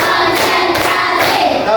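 A group claps hands in a counted rhythm at a classroom session, making a dense, steady wash of many hands close by. No one speaks over it.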